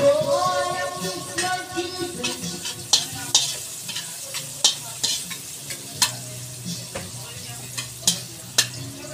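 Garlic sautéing in a pan for papaitang baka, a busy crackling sizzle beneath repeated sharp clinks and scrapes of a spatula stirring against the pan, close and fairly loud, without speech.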